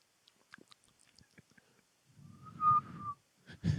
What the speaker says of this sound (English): can you not whistle? I can only do one tone.